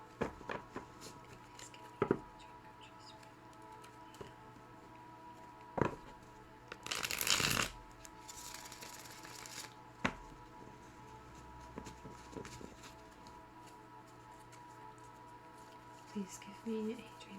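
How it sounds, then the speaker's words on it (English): Tarot cards are shuffled by hand in a quiet room, with soft papery riffles and taps coming in scattered bursts and a brief louder flurry midway, all faint and close. "while I shuffle the cards"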